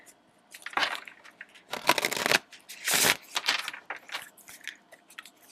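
Tarot cards being shuffled by hand in short papery bursts, several riffling swishes and softer slides separated by brief pauses, close and fairly loud with no talking.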